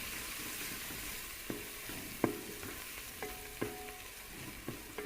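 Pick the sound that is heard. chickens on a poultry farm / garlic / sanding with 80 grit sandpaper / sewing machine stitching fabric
garlic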